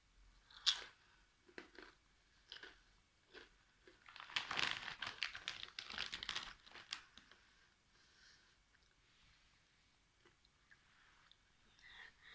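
Crunchy Patos Extra Chili potato chips being bitten and chewed up close, several loud crisp crunches with a dense burst of chewing in the middle, bag crinkling now and then, no talk.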